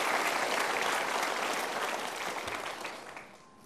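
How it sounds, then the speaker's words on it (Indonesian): Studio audience at a motivational talk show breaking into sustained, dense applause that holds strong, then thins and fades out near the end. "Kita berikan tepuk tangan."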